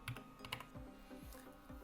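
Soft, quick keystrokes on a computer keyboard, a short run of light clicks at an uneven typing rhythm, close and quiet with no voices.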